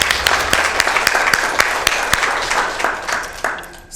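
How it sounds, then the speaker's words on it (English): Audience clapping at a community meeting, a loud close wash of hands with sharp individual claps standing out, tapering off toward the end. "And I want to give a clap to her."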